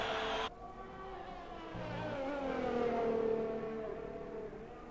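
Formula 1 car engine in a racing video game on a hot lap around the China circuit, a loud sustained whine that climbs and shifts through gears with a brief cut near the start, steady and close, with no talk.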